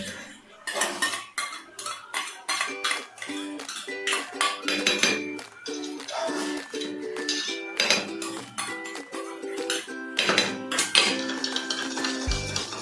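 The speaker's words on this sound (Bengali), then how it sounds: "বাদ বাকি যে দইটুকু ছিল তার মধ্যে আমি কাজু বাদাম বাটাটা একটা মিহি পেস্ট বানিয়ে নিচ্ছি" Metal spoon clinking and scraping steadily against a bowl while cashew nut paste is mixed into curdled yogurt, with rhythmic taps and clinks throughout, close and fairly loud.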